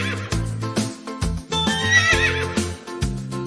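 Cartoon horse neighing loudly and close, a run of whinnying calls over bouncy children's music, with a few brief gaps between bursts.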